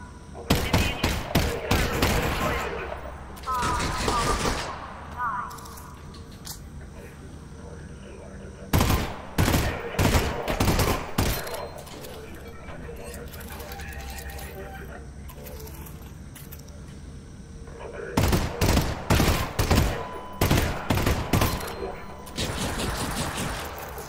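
Gunfire in Half-Life: Alyx, fired in bursts of loud, sharp shots that come in dense volleys at the start, middle and end, with quieter game ambience between them.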